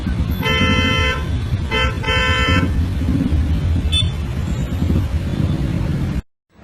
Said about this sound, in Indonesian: mereka terus-terusan diklakson oleh bus